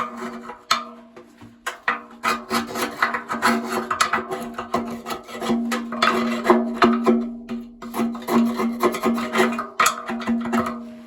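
Repeated rough scrubbing strokes scrape dried scale off a part from a Bosch WFP3300 washing machine, close and uneven in rhythm, over a steady low hum, with no talking.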